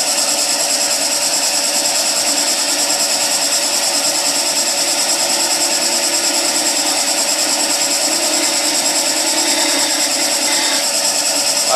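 Skew chisel taking a planing cut with the long point up on a spinning workpiece on a wood lathe, a loud, steady hissing shave of wood that runs unbroken throughout.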